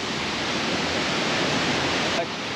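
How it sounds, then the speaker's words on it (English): A waterfall in Bali roars with a loud, steady, broadband rush of falling water that fills the whole stretch without a break. "Imagine coming to a waterfall in Bali on your birthday."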